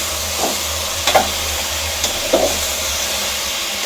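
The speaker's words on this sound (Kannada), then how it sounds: "ಈಗ ಸ್ವಲ್ಪ ಫ್ರೈ ಮಾಡೋಣ." Mutton frying in a pan with a paste of mint, garlic and onion, a continuous close sizzle broken by a few scraping stirs of the spoon against the pan.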